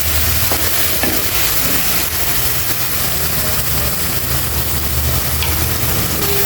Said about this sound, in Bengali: পরিষ্কার করে রাখা শসাগুলো দিয়ে দিচ্ছি। কষিয়ে নিব